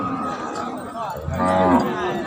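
Cattle mooing loudly and close at a livestock market in Warin Chamrap, Thailand, a drawn-out low bellow rising toward the end over a busy background.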